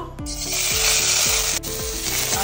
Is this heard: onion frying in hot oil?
yes